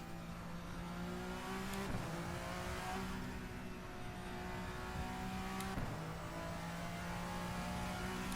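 A VRC Vendetta V60 race car driven at Barcelona in Assetto Corsa hums at a steady engine pitch throughout, with two brief gear-shift dips and surges along the way.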